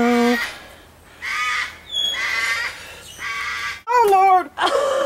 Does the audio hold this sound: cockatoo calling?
yes